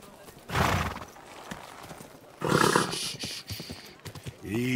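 Horse in Kingdom Come: Deliverance II: a burst of hoof clip-clop followed by a loud whinny and snorting, with a voice murmuring briefly near the end.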